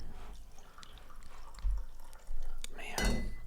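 Batch brew coffee poured into a cup, with soft liquid trickles and a couple of louder ceramic clinks and clatters near the end, faint background voices underneath.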